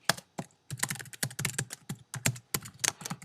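Keys clatter on a computer keyboard while a SAS program is typed into an editor, in close, irregular bursts of clicks with short pauses between them.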